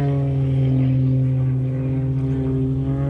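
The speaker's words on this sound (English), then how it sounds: "A lot of noise with airplanes," A steady, loud propeller-aircraft drone from airplanes at an air show hums without a break, its engine tone holding level throughout.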